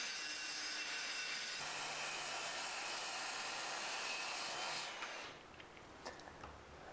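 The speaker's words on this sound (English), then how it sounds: "then I'll cross cut these with a circular saw" A circular saw cross-cuts a half sheet of plywood, a loud, close, harsh roar of blade through wood lasting about five seconds before the cut ends and the noise drops to a few light knocks.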